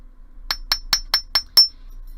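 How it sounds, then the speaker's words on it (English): Six sharp metallic strikes ring out at an even, quick rhythm as a hammer flattens bracelet wire held against a metal mandrel, close and clear over a quiet background with no talking. "I'm going to hold this nice and tightly against my mandrel, and I'm going to hammer it flat with my hammer"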